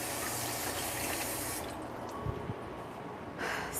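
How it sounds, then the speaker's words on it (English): Running water from a tap pours steadily as hands are rinsed at a sink, a broadband wash that drops off partway through and returns near the end, with no talking. "Let me rinse my hands real quick."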